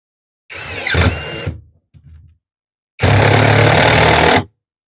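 A 20V brushless impact driver hammers on a bolt in two bursts: a short rattling run with a brief tap, then a louder sustained impact burst of about a second and a half, close and with no talking.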